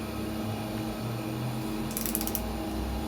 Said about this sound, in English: And then we grab our torque wrench